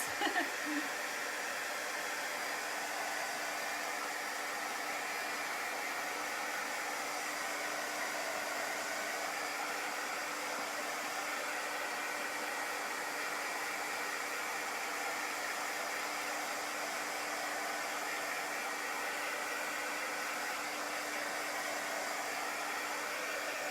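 A hair dryer blows steadily and loudly for the whole stretch to dry chalk paste on a bunny cut-out craft project, producing a constant close whooshing hiss with a faint motor whine.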